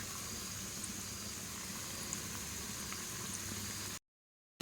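Gobi manchurian pieces fry in hot oil with a steady, dense hiss and crackle, close and even throughout, cutting to silence for a moment near the end before resuming.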